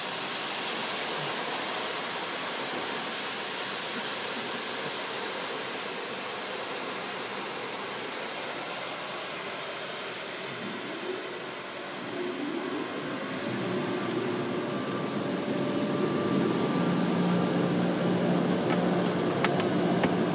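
Vintage Belanger tunnel dryer at a gas station car wash, a steady broad roaring blow that holds throughout and grows somewhat louder and fuller in the second half, with faint rattling on top.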